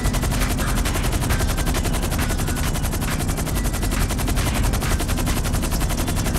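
Sustained automatic gunfire from a GTA V shootout, a loud continuous rattle of rapid shots filling the whole stretch with no pauses and no talking over it.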